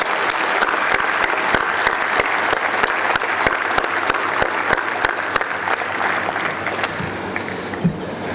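A large audience gives a sustained round of applause for a management thinker, with thick steady clapping, a few sharp individual claps standing out and the sound thinning slightly toward the end.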